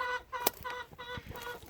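Hens cluck in a henhouse on a small farm, a quick run of close, short, throaty clucks with brief pauses between them.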